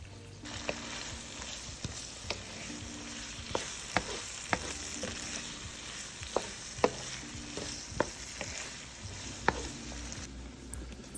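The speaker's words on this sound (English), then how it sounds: "I'm going to let my peppers and onions saute for about 5 to 7 minutes" Peppers and onions sauté in hot oil with a steady close sizzle, punctuated by sharp crackles and spatula taps every second or so, with no voices.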